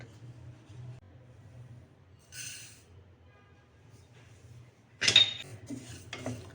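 Flaxseeds dry-roasting in a pan over low heat, giving faint scattered ticks and then a louder burst of crackling and popping near the end, with no talk.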